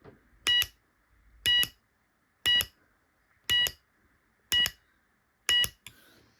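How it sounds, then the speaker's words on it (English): A Gent fire alarm panel sounds its class change alarm during a test, giving six evenly spaced, sharp electronic beeps about one second apart, clear and close in an otherwise quiet room. "So I'm basically doing the Gent class change alarm just by hitting that a couple times to do that."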